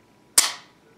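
A single sharp, loud mechanical snap from a Tanfoglio TA 90 9mm double/single-action pistol as the heavy single-action trigger is pulled, standing alone in near silence with a brief decaying tail.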